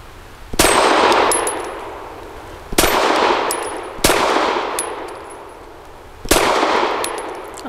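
Four loud pistol shots from a Stoeger STR-9S strike a small steel target at distance, each sharp crack followed by a bright metallic clang that rings out. The shots come at uneven intervals with no talking.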